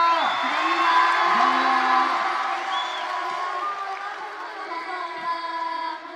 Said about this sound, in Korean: 트와이스 분께 다시 한번 박수 부탁드리겠습니다